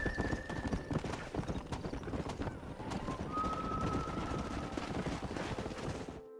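Horse hooves clip-clop in quick, busy rhythm in Red Dead Redemption, close and moderately loud with a brief whinny mixed in, before the sound cuts off near the end.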